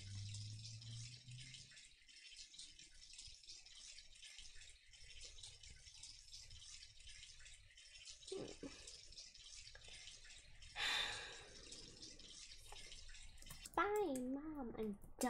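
Shower or bath water runs steadily as a soft, even hiss in a home bathroom, with a faint splash midway and a voice speaking briefly near the end.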